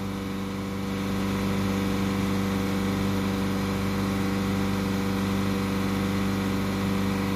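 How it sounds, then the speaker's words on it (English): A Ford Galaxy engine with fault code P0546 runs at steady, slightly raised revs, a continuous hum with a constant low drone and no talking. "So we'll hold these revs now for another couple of minutes"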